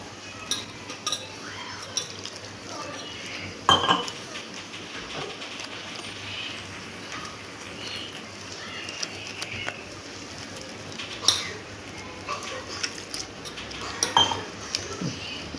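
A spoon clinks and scrapes against a pot while mixing spiced vada pav potato filling with salt, with soft irregular clatter and a few sharper knocks throughout.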